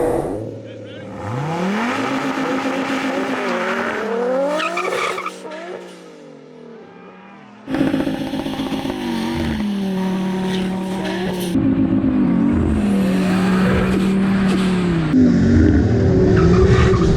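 A race car launches and accelerates through the gears at a drag-style race, loud engine rising in pitch with gear changes, tire noise and a second run starting abruptly, with talk mixed in.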